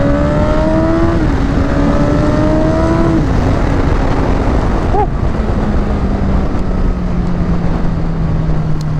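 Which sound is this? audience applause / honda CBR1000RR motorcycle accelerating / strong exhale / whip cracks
honda CBR1000RR motorcycle accelerating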